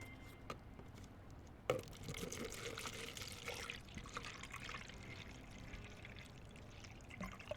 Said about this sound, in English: let me just pour my drink now.